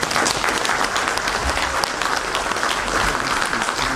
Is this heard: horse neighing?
no